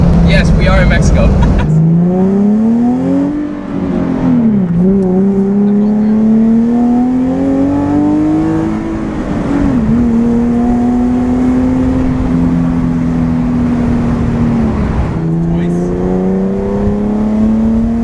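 A 380HP Nissan 370Z NISMO driven on the road, its engine note climbing and dropping through repeated gear changes, loud and close, with a short pause between pulls.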